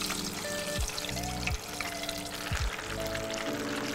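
Potato chips lowered spoon by spoon into frying oil at about 130–135 °C for fish and chips, giving a loud, steady sizzling hiss and bubbling with a few soft clunks and swells throughout.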